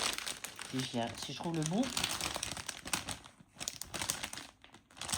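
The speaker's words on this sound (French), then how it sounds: "je vais vous déballer les couleurs" Crinkly plastic packaging around new colours is unwrapped close up, giving loud continuous crackling and rustling while someone speaks briefly over it early on.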